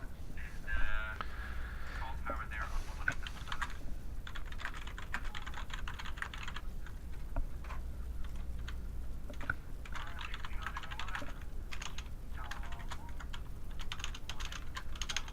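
A computer keyboard clatters in fast, uneven bursts of keystrokes throughout a live air traffic control session, close and continuous under a faint low hum.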